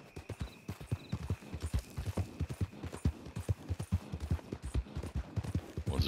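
Horse hooves clip-clop steadily while riding in Red Dead Redemption 2, a fast regular gallop rhythm of sharp thuds close up, continuing alone without talk.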